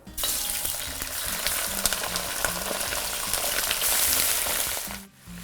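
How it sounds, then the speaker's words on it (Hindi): Cinnamon, bay leaves and mutton fry in hot oil inside a pressure cooker, giving a loud, steady sizzle with stirring scrapes throughout, cutting off abruptly near the end. "एक दालचीनी डाल रहा हूँ, 1-2 तेज पत्ता डाल रहा हूँ, उसके बाद मटन"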